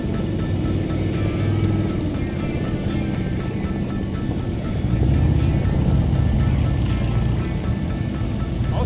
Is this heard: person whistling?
no